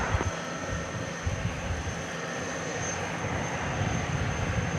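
An Airbus A300 takes off from DFW Airport on a flight to Germany, its jet engines a loud, steady broadband roar that holds throughout.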